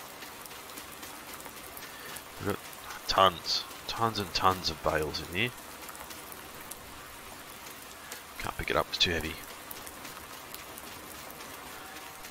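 Rain in the video game Farming Simulator 19 on the Ravenport map, a soft steady patter falling throughout while someone talks over it.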